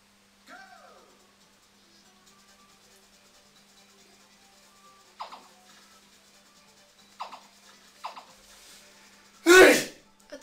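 A single sharp, loud sneeze bursts out near the end, after soft breathing and small rustles, during casual French-speaking gaming chatter.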